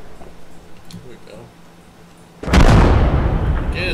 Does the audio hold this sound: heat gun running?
no